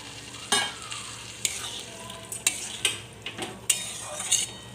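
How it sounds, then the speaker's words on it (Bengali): A spoon stirs fried spice masala in a pan as water is added, with a quiet steady sizzle under several sharp metallic scrapes and clinks spaced irregularly. "মশলা সম্পূর্ণ কষা হয়ে গেছে, এবার আমি দিয়ে দিচ্ছি সামান্য পরিমাণে জল।"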